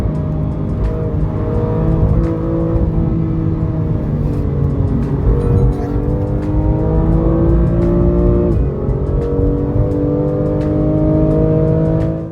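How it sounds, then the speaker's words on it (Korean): A BMW M2 Competition's exhaust roars steadily as it accelerates, the engine note climbing through gears with brief dips between shifts, loud and close throughout. "가속 페달을 전개하면 카랑카랑한 배기음과 함께 시원스러운 가속감을 느낄 수가"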